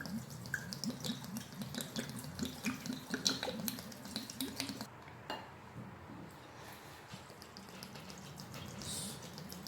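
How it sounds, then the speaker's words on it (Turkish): Boiled and cooled water poured into a jar of homemade pomegranate and apple vinegar holding a thick vinegar mother, with a steady splashing trickle and soft glassy clinks. The water quietens to a faint gurgle midway. "Kaynatıp soğuttuğumuz su veyahut da damacana suyunu ilave ediyorum."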